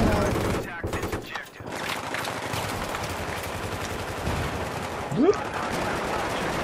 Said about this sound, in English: I'm gonna shoot near you.